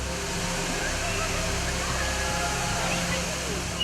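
A large, remote waterfall thunders steadily as a dense, constant roar of falling water at the base of the falls, with no break across the moment.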